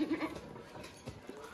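Goats at a goat farm in Jintur, Parbhani district, let out a brief, faint bleat at the very start, followed by quiet farmyard background with a few soft knocks.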